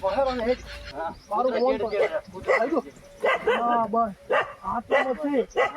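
A dog barks in short repeated bursts while people talk nearby.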